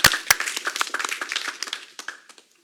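A small audience at a community council meeting claps in a short burst of scattered, uneven claps that thin out and stop within about two and a half seconds.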